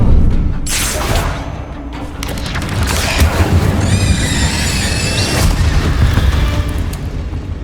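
An Incendio fire spell cast in Hogwarts Legacy, a loud booming burst amid dense game effects and rumbling, with a whistling shimmer midway through the several-second blast.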